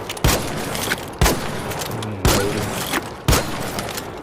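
Shotgun fire in the video game ARC Raiders: four loud, sharp blasts spaced about a second apart, each with a short booming tail.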